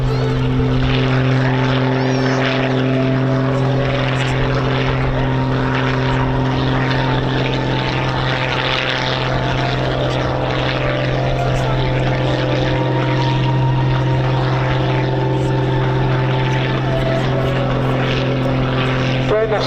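A propeller aircraft flies a display at the RAF Coningsby families day, its engine a loud, continuous, steady drone with a low hum throughout while a commentator talks over it.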